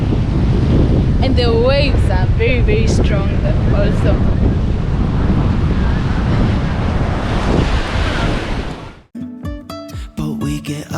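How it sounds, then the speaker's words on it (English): Strong Atlantic Ocean waves surge and roar loudly and steadily, heavily buffeted by wind on the microphone, with a voice briefly calling over the wash before it cuts to quieter sounds. "And the waves are very, very strong though."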